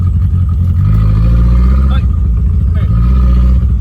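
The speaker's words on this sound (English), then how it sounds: "Hear that? When it gets in the boost? It's a vacuum leak." A turbocharged Ford Ranger engine under boost with a vacuum leak runs loud and steady, with a low droning rumble, rough stumbling pulses and a brief hiss-like rise partway through, while voices talk over it.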